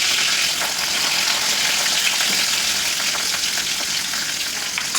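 Chopped onion and curry leaves sauté in hot oil in a pan, giving a steady, close, loud sizzle with faint stirring scrapes throughout and no talking.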